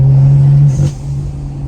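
A tuned BMW N55 inline-six exhaust drones low, then lets out a small, brief pop near the end of the engine note, the rumble easing afterward.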